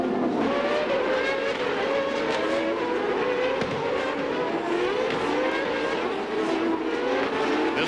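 Champ Car race engines at the 2000 CART Honda Indy 300 in Australia, a dense, continuous high-revving roar of several cars braking and accelerating through a chicane, loud and close with shifting pitch.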